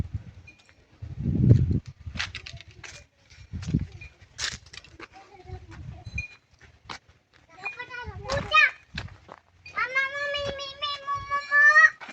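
A house cat meows several times in drawn-out calls near the end, mixed in with children talking and playing nearby indoors.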